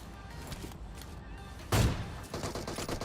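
A burst of rapid gunfire in PUBG Mobile, fired from a hillside area during a solo-versus-squad match, sounding as one sharp, loud volley followed by quieter shots and game ambience.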